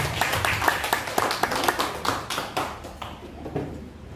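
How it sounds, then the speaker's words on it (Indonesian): A small audience at a school teachers' dissemination session applauds, scattered claps fading from brisk to sparse over a few seconds, close by. "Ya, tepuk tangan dulu untuk Pak Nandang."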